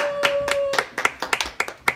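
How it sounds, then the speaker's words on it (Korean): A few people clapping at a small non-contact year-end awards show, a short burst of sharp, uneven handclaps over about two seconds, close and crisp, with a brief tone at the start. "박수 주세요."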